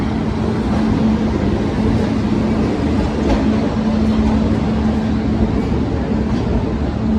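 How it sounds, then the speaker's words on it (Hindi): Sikkim Mahananda Express pulls out of an Indian railway station with a continuous rumbling roll of wheels and coaches and a steady low hum, loud and close. "बाकी इस ओर सिक्किम महानंदा का डिपार्चर हुआ है अभी।"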